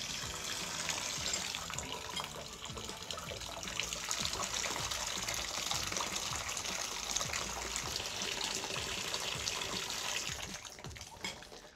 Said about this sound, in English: I'm gonna let this water run over the thermometer and check to see what temperature we're at